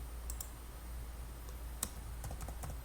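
A few light clicks of computer keyboard keys, with one sharper press of the Enter key, sound faint and sparse over a low steady hum in a quiet room.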